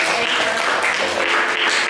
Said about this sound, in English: let's give Raymond a big round of applause